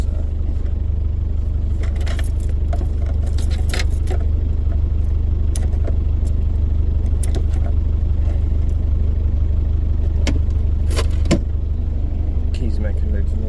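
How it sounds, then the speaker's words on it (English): Keys jangling in a moving off-road vehicle rolling downhill in low first gear, light metallic rattles and clinks scattered over a loud constant engine and road rumble that fills the whole stretch. "Keys making loads of noise."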